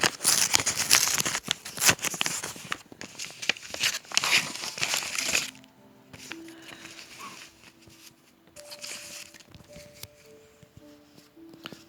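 Paper crinkling and tearing as an envelope inside an envelope is opened to reach a lot of world banknotes, close and busy for about five seconds, then quieter rustling and handling with faint tonal sounds behind.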